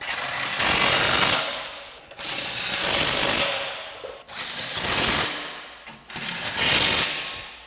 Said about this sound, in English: Using our 18mm socket, we can tighten down the 4 bolts.